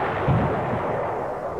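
Artillery fire in a Cold War strategy video game, a muffled low boom near the start that rumbles briefly, set against steady game background noise.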